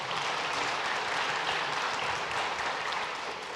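Congregational applause during a Sunday church service, thanking a member for a donation of rice; a steady, diffuse clapping from a large room, fairly soft and continuous with no speech.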